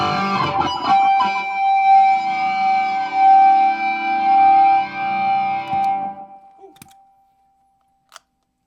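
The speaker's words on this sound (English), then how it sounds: "vortex pedal. It's great for if you're doing some 80s stuff." Electric guitar through a Vortex effects pedal suited to 80s tones, a swirling, warbling sustained chord that rings loud and close, then fades to silence with a tiny click near the end.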